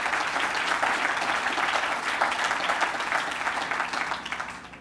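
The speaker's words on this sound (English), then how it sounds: "Let's give them a round of applause." Sustained audience applause at a medical education center event, a steady, moderately loud wash of many hands clapping that fades slightly toward the end.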